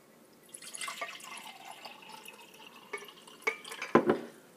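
Water poured into a glass jar for cut white daisies, a thin trickling splash followed by a few clinks and drips, close and fairly quiet.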